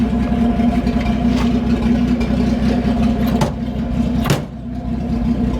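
A Holden HT Ute's engine runs steadily in first gear as it creeps out of a workshop shed, a loud, continuous low rumble that stays close throughout with a couple of brief sharp knocks.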